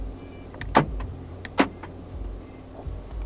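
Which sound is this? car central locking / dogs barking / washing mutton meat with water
car central locking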